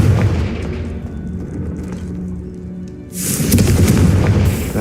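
Confringo fire spell cast in the video game Hogwarts Legacy: a deep booming blast bursts out partway through, loud and full after a quieter rumbling stretch, with no talk.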